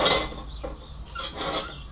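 Metal cooking pots clank and scrape against each other close by on a small family farm, with light clinks and rattles over a low background hum.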